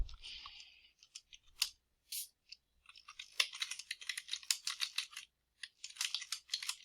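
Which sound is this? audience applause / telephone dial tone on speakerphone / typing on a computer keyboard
typing on a computer keyboard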